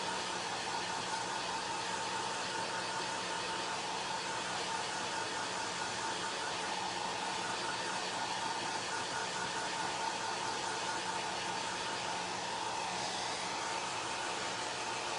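A hair dryer blows steadily and loudly without pause, drying chalk paste on a Halloween witch's hat craft piece, with a constant broadband whoosh and motor hum.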